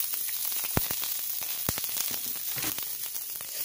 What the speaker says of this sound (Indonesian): Bawang putihnya kita tumis dengan sedikit minyak.